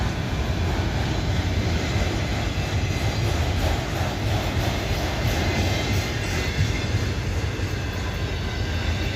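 A stopped loaded coal train shudders as draw head slack runs in between the cars, a loud, continuous rumbling clatter of couplings close by with no clear gaps.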